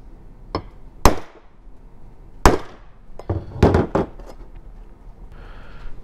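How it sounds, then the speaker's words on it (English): A metal punch struck with a hammer to mark steel before drilling, several sharp metallic taps at irregular intervals, close and loud against a quiet shop background. "I'm just going to use a punch real quick to make a mark"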